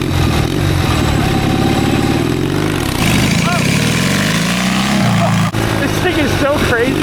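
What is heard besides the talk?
twin cylinder mini bike engine revving with stainless exhaust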